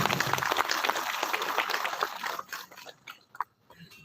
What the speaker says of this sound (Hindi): ताली बजाइए एक बार गुरु गोरखनाथ